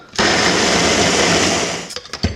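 Garlic is minced in a blender or food processor, a loud close whirring motor running steadily for about two seconds before cutting off with a few rattling knocks.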